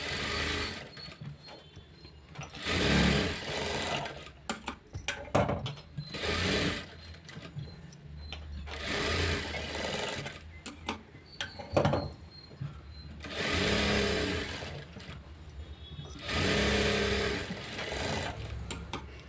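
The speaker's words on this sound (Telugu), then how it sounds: "దీనికి స్ట్రైట్గా ఒక కుట్టు అనేది వేసుకోండి" A sewing machine stitches a straight seam on blouse fabric in repeated bursts of fast, steady whirring and needle clatter, separated by short pauses and small handling sounds, close and clear with no talk.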